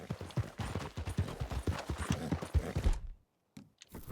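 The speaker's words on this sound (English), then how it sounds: "I'd borrowed a friend's horse for the trip." A horse's hooves clip-clop in Red Dead Redemption 2, a close, rhythmic run of distinct strikes that stops abruptly near the end, followed by brief silence and a couple of faint knocks.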